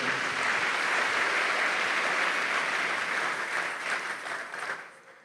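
A church congregation applauding, a dense sustained wash of many clapping hands that holds steady, then thins and fades out near the end.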